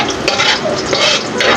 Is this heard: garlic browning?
yes